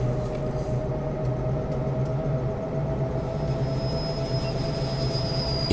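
Train wheels squeal with a steady high whine over a continuous low rumble of carriages rolling along the track in Train Sim World 2020, constant and close with no talk.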